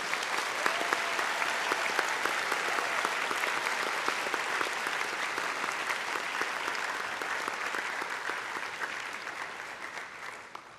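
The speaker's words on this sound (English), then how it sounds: "I want everyone to give them a round of applause." An audience at a National Science Bowl championship gives a round of applause for the competitors, dense sustained clapping from a large room that stays strong for about ten seconds and fades slightly at the end.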